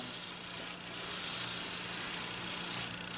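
A large-radius wood template sanded down to a marked line, giving a continuous dense hissing rasp at an even level throughout, close and with no voices.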